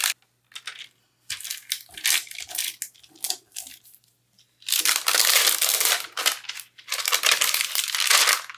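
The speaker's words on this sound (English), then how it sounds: "bring in this transfer tape" Loud crinkling of vinyl transfer tape in bursts, with short rustling handling noises first, then two long sustained stretches of crackly crumpling up close.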